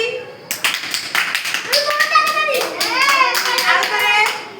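Children clapping together in a classroom during an English alphabet lesson, a rhythmic run of sharp claps in short bursts with children's voices chattering and speaking over them.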